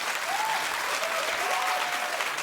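A television talk-show studio audience applauds continuously, a dense steady wash of clapping with some cheering voices rising through it.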